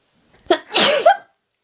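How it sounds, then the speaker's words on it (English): A single sharp sneeze, a quick intake then a loud burst, close and isolated in quiet. "I'm going to sneeze."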